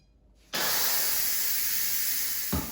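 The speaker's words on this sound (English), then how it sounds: "I'm gonna just release the steam." Steam released from a pressure cooker of cauliflower, kale and lentil soup bursts into a loud, continuous hiss that starts abruptly and holds steady, close by.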